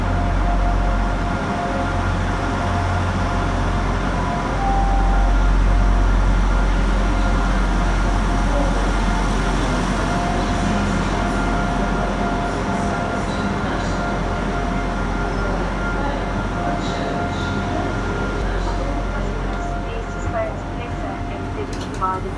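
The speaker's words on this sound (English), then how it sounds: "here is our train, resplendent in the old livery of Transport for Wales Rail, a Class 175" A Class 175 diesel train rumbles steadily as it draws into platform 4 at Shrewsbury Station, with a low engine drone throughout and faint voices underneath.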